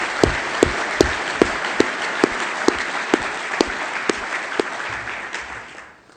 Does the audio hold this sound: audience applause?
yes